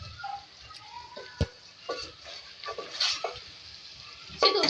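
Fried potatoes and chicken are stirred in hot oil in a pot, with soft sizzling, scattered scrapes and a sharp knock of the spoon against the pan, close but fairly quiet.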